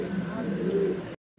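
Pigeons coo at a pigeon farm where caged birds are sold, a steady low burbling chorus that runs close for about a second before cutting to silence.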